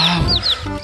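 Colorful rainbow chickens give a few quick, close clucks and squawks in a short burst, with chirpy rising calls on top, loud and near without talk.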